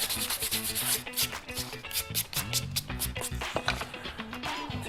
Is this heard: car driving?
no